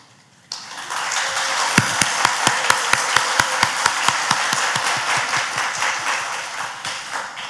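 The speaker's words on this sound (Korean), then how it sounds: "우리 잠깐 일어나시면 우리 따뜻한 박수로 한번 축복하겠습니다." A Korean church congregation in Auckland breaks into warm applause that swells suddenly and holds steady, with a run of sharp, evenly spaced claps standing out near the front over the dense wash of hands.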